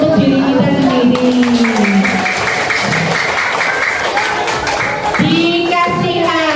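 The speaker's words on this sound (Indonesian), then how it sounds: "Mari kita tepuk tangan untuk diri kita sendiri." Class of fourth-grade children clapping their hands together at the end of a lesson, a close, steady burst of clapping with children's voices mixed in.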